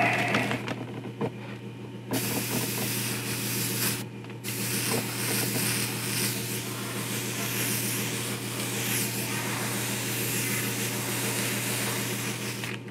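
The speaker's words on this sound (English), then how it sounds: "this airbrush I'm using is just pissing me off" Close, continuous hiss of an airbrush spraying paint onto a 1/4 scale custom Hulk figure, with a short pause around the second and fourth seconds over a low background hum.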